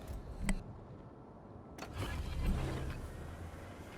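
Engine speed boost kicks in aboard a Leone, a tier 6 Italian destroyer in World of Warships, with a sharp click, a short pause, then a rising mechanical engine whir that swells and holds.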